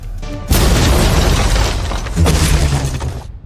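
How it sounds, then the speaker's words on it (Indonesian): A sudden loud blast erupts and rolls into a long, noisy rumble with debris-like crackling, fading slightly before a second surge of low rumbling. "tiba-tiba sebuah ledakan terjadi"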